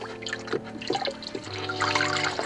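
Cool spring water is poured in a few splashy trickles and drips, close and moderately loud, with a low hum underneath and no talking.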